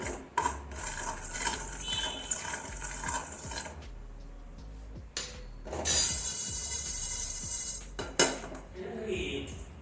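Fenugreek and nigella seeds roast in a pan for pickle making, with a spoon scraping and clinking against the metal in irregular bursts, some louder strokes standing out from quieter stirring.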